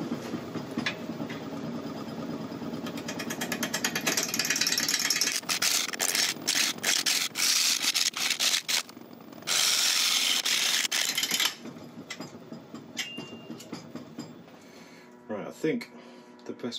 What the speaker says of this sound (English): as you're only cutting it occasionally, it's making a nasty sound on the gouge.